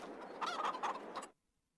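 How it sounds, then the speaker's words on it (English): Chickens in a barn in the Farming Simulator 22 video game cluck and chatter in a quick, close burst of clucks lasting about a second before cutting to silence. "we've got 360 chickens or chicks in this barn here"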